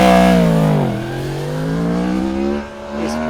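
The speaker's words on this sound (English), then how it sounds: "The sound of it, it kind of sounds like a cross between a V-twin and a V4." A Yamaha MT-10 crossplane-crank 1000cc motorcycle engine revs up and down with a gravelly, growling tone, pitch dipping and then climbing again, loud and close.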